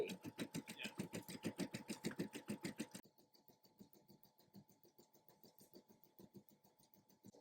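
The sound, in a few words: embroidery machine moving and stitching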